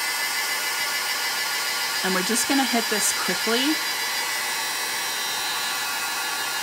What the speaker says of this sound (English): I'm gonna bring my heat tool in.